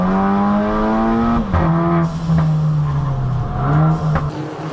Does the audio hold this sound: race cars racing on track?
yes